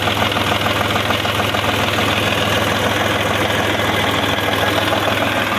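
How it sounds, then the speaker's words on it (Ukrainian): A 35-horsepower tractor engine idles steadily with a deep, continuous low rumble and a faint knocking rhythm, close and loud, with no talking. "Мотор працює ідеально."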